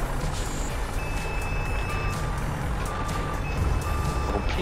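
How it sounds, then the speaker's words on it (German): A vehicle in Farming Simulator 22 beeps in steady, evenly spaced tones as its ignition switches on, sounding over a constant engine and ambient drone. "Warum piepst der denn aber beim Starten?"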